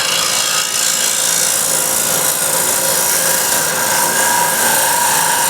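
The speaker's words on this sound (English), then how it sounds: "I'm not pushing real hard into the wood. I'm just gliding the scraper on the surface." A flat bowl scraper glides lightly over the surface of a thick wooden bowl spinning on the lathe, giving a loud, steady, close rasping hiss with no breaks.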